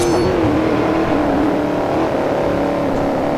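An Audi's engine revs hard close by, a loud, sustained roar whose pitch climbs and then holds steady as the throttle stays open.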